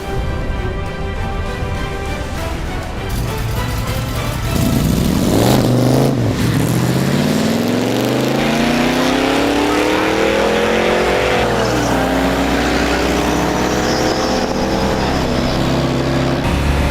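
A powerful nitrous-equipped Plymouth 'Cuda drag race car roars close by, revving hard and then accelerating to about 110 mph with a rising, sustained scream that stays loud throughout.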